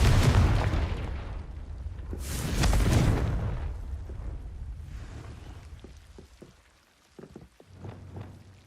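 Confringo spell blast in Hogwarts Legacy: a deep rumbling explosion with a second heavy boom, fading into scattered debris clatter and small crackling impacts.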